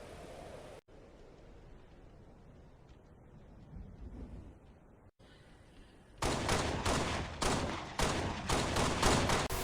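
Automatic gunfire from the Halo Reach firing range starts after several seconds of quiet ambient hiss, then bursts loudly and rhythmically in repeated rapid volleys.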